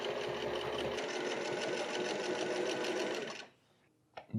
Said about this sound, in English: Continuing on the double flap side, sewing along the edge.